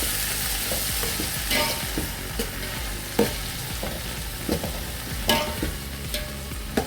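Onions, chilies, green pepper, curry leaf and thyme fry in a pot for lamb biryani, sizzling steadily while a spoon scrapes and stirs with irregular clanks against the pan.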